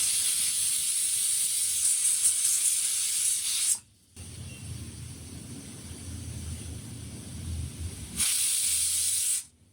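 A pressure cooker on a gas stove lets off a steady hiss of escaping steam while cooking khichdi. The loud, close hiss drops out briefly midway, continues as a lower rushing sound, then swells again near the end.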